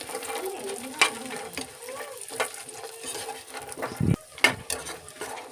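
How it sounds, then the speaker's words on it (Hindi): Makhana fox nuts roasting in a spoonful of ghee, a soft continuous sizzle with light rattling and scraping as they are stirred, a few sharper clicks and knocks of the spoon against the pan, close by and without speech. "फ्रेंड्स, मखाने के साथ ही हमने 1 चम्मच घी और डाल दिया है और इनको हम भून लेंगे"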